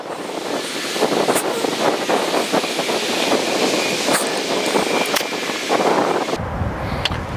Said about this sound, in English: if I can wait for a wind gust to stop